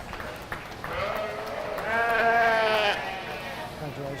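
Ewes bleating at a livestock show, two or three wavering bleats close by over a quiet hall background.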